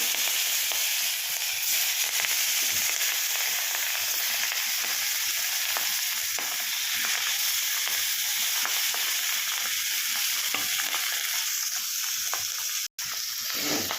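Continuous loud sizzling of dhela fish frying in oil, with occasional soft scraping and clicks of stirring throughout.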